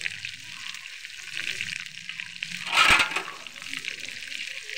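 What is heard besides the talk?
curry leaves frying in oil for paneer 65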